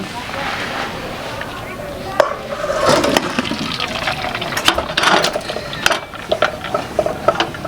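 Water draining off freshly boiled, washed large chillies for stuffed chilli chops, a steady splashing gush in a home kitchen that swells and surges in bursts, with sporadic clatter.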